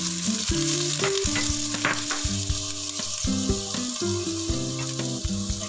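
Garlic and dried shrimp fry in hot cooking oil in a pan, a steady bright sizzle with stirring scrapes, heard close and continuous over a background music bed.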